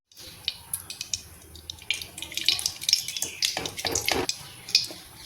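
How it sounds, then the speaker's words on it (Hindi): Ghee melts into hot peanut oil in a kadhai, giving soft irregular sizzles and crackles that grow busier and louder toward the end, with no talk over them. "अब हमारी कढ़ाई में गरम तेल मैंने डाला था, ये मूंगफली का ऑयल है, लेकिन अब हम इसमें थोड़ा सा घी भी ऐड करेंगे"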